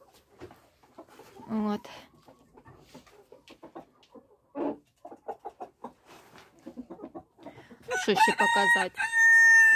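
Chickens on a dacha, including adult Araucana, Marans and Australorp roosters and hens, cluck intermittently under a woman's nearby speech, then a loud rooster crow rings out near the end.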